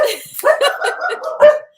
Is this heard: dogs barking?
yes